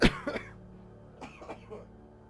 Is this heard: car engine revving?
no